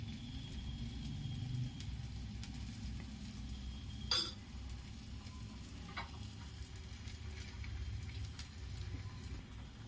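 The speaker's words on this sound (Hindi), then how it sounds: "एक चम्मच रिफाइंड चारों तरफ डाल देती हूँ।" Refined oil sizzles steadily around food frying in a pan for a rice-and-lentil peel dish, a constant soft crackle with one brief sharp tap partway through and no voices.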